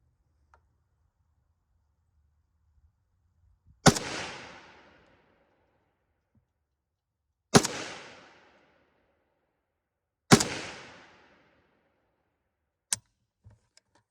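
AK-47 rifle shots fired at a range: three loud, sharp cracks several seconds apart, each trailing a short echo, then a fainter fourth report near the end, with quiet between.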